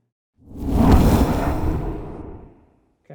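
Fire and ice magic sound effect in its full mix: a single loud, close swoosh that rushes in, swells for about two seconds with a crackling, airy texture, then fades out.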